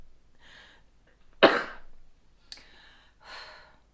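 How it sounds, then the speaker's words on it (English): A single dry, cough-like sneeze bursts out sharply and close, framed by soft breaths and sighs before and after in an otherwise quiet room. "That was hardly even a sneeze, more like a cough sneeze, but like dry."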